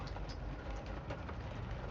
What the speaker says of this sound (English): The train passes just on the other side of the road.